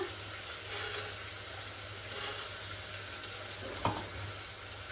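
Potatoes, overnight-soaked peas, onion, mint and green chillies frying in oil for an aloo kurma, a steady close broadband sizzle with a faint low hum and one brief clink of a utensil near the end.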